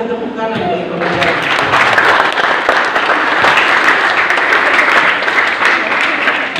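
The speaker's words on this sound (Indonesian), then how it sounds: "Onomi, Reiman, mari kita tepuk tangan bagi pemirsa." Audience applause at a Christian youth gathering breaks out after a short spoken lead-in, then sustained dense clapping continues loudly and evenly to the end.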